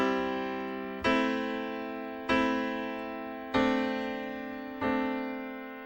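A piano plays a three-chord progression with left-hand bass notes. Four sustained chords are struck about every 1.2 seconds, each one ringing and slowly decaying before the next, close and clear with no talking.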